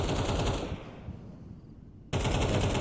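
Counter-Strike gunfire on the Inferno map during a professional match, with a loud burst of rapid shots that cuts off into a quieter gap before another dense volley resumes.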